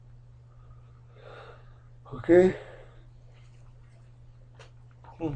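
A man yawns during a math lecture, a drawn-out breathy exhale rising in the middle over a low steady hum, with a brief spoken word around it.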